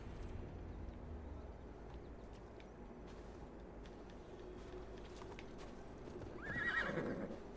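Horse hooves clip-clop steadily through a forest in Gloucestershire in Assassin's Creed Valhalla, with a horse whinnying near the end over a continuous ambient game background.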